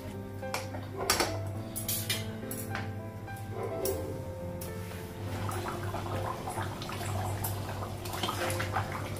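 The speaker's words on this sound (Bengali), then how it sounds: "জল লাগিয়ে দেবো ফুলের জন্য।" Water splashes and pours steadily in a home kitchen during morning cooking, with scattered clinks and taps of pots and utensils over the running flow.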